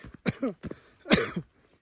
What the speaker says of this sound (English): still have a little cough, by the way, if you didn't notice